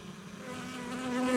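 Honey bees buzz steadily at a hive entrance gate on a warm day, a close, continuous droning hum that swells slightly louder toward the end, with no talking.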